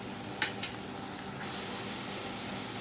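Ginger garlic paste sizzles in a pan after onion and turmeric masala for a raw jackfruit curry, a steady frying hiss with a couple of brief crackles and stirring, no voices.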